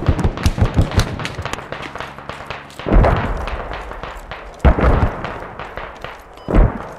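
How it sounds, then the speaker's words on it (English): Mortar rounds exploding on an enemy tank at a bridge in a video game: a busy stretch of crackling blasts and several heavy booming thuds, loud and fairly near, with no talking. "Those mortars hit it, Charlie."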